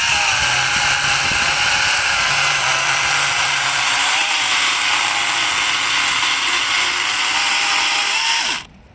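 A 43.2V cordless chainsaw cuts through brush, running as a loud, steady whine that holds for about eight seconds before cutting off abruptly.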